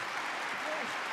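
A crowd at a New Japan Pro Wrestling 50th anniversary six-man tag match claps and cheers in a steady, continuous wash beneath a commentator's voice.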